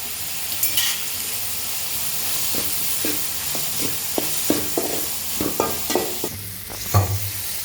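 Onions and ginger paste sautéing in a pan for kothu parotta: a continuous soft sizzle with a series of scraping stirs of a spatula, close and steady.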